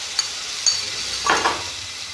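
A paste of mustard, ginger, garlic and chili frying in a pan, a close, steady hiss marked by a few faint utensil clinks.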